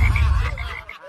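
A frog sound effect gives a close, loud croak with a few rapid pulsing repeats, heard alone and quickly fading out.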